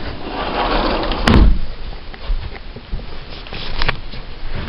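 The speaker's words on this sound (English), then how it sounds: "Gotta close the door." A door is pushed shut with one sharp, close thud, followed by quieter rustling and shuffling indoors.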